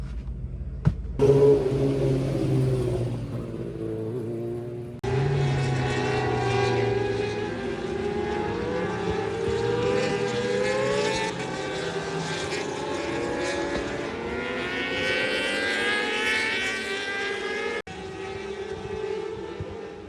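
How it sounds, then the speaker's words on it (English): Racing motorcycles, Dart Motorsport MRO 600s and Clubman 600s at a Bemsee club meeting, roar around to complete the warm-up lap, engines rising and falling in pitch as bikes pass steadily near the track, with no talk. "So coming around to complete the warm-up lap, this will be an 18-lap race for the Dart Motorsport MRO 600s and Clubman 600s."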